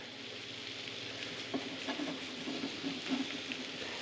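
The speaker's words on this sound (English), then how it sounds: "it's close to 2 pounds of 80-20 ground beef here that we're going to brown up" About two pounds of 80-20 ground beef browning in a pan, giving a steady close sizzle with light scraping and stirring clicks, and no voices.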